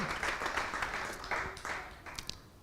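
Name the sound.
audience applause at temple festival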